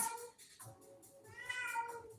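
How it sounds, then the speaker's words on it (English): A cat meows a couple of times up close, drawn-out plaintive cries in an otherwise quiet room. "Meow? What meow?"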